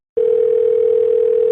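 A telephone line tone sounds on a call. After a brief silence, one steady pitched tone starts abruptly and holds loud and unbroken to the end, with no speech.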